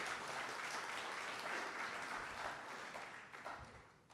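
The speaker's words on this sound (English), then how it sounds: "I want to give you a big round of applause" Large audience at an architecture and interior design expo opening ceremony gives a continuous, fairly distant round of applause that slowly thins toward the end.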